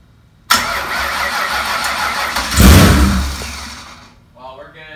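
A turbocharged 4.6-liter two-valve V8 rated over 1000 horsepower cranks and fires up loudly and close, roaring with a surge around the middle before settling and fading, followed by a few faint voices.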